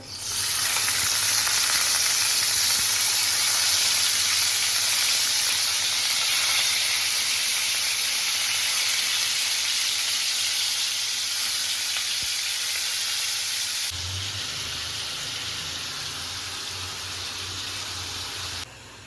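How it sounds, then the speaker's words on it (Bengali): Chicken frying in hot oil for homemade butter chicken, a loud steady sizzle and hiss that runs unbroken, dropping slightly in level near the end. "এবারে চিকেনটা আমি ভেজে নেব"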